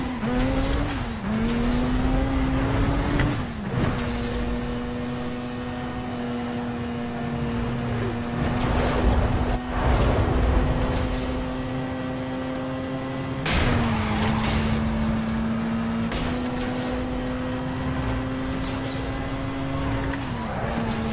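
Cars race in Need for Speed Most Wanted (2005), a steady loud engine drone with pitch shifts as gears change, sharp transient impacts and skids throughout, with no talking.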